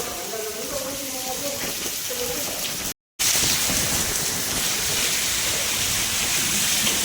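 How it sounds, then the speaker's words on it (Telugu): Heavy rain falls with strong wind under a bridge during a downpour. A dense, roaring wash holds steady across the whole span, broken by one brief silent gap, and it grows louder and fuller after the gap. "ఇటు పక్క నుంచి అయితే వచ్చేసింది బాగా విపరీతమైన గాలి వర్షం అనమాట"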